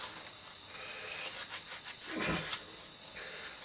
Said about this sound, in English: I'm going to use the sanding sponge just gently to get the crap off